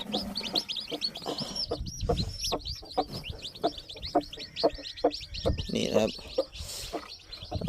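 A mother hen clucks steadily among her chicks, with short repeated clucks and high peeping chirps from the young birds close by, and a voice talking over them.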